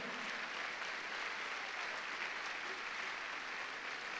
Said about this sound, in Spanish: Dale fuerte ese aplauso a Dios.